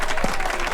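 A brief burst of applause from a crowd, dense and continuous clapping at moderate loudness.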